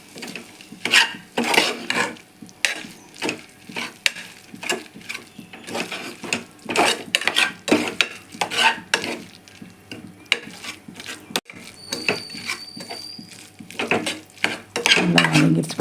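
A spatula stirs a cauliflower gravy masala with turmeric, chili powder, coriander powder and garam masala in a pan. Its rhythmic scraping strokes repeat over a faint sizzle, with no talk.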